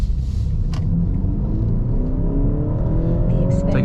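A 2023 BMW X1 28i accelerates on the road, its engine note rising steadily in pitch from inside the cabin over a constant loud rumble of road and engine noise.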